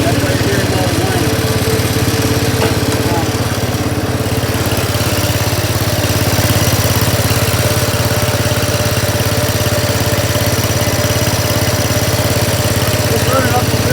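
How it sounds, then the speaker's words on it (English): Farm machinery with its engine running and the transmission engaged, giving a steady, continuous mechanical drone with a whining tone throughout, loud and close, with no clear talk over it. "Now I'm going directly to the transmission. That's why you're hearing all the whining."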